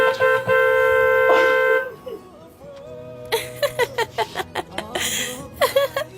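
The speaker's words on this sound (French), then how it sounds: "Ça klaxonne au portail." Car horn honking at a gate: a long sustained blast, then a brief second toot, followed by voices and scattered chuckles nearby.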